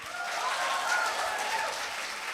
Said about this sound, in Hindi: एक बार तालियां अपने लिए बजा लीजिए।